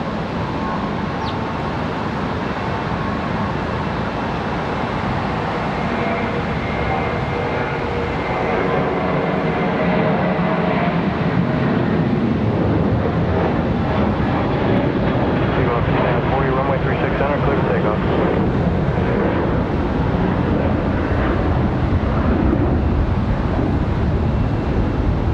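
A Frontier Airlines jet departs Charlotte Douglas airport with a loud, steady engine roar that swells and holds for the whole stretch, and radio chatter and a nearby voice come over it.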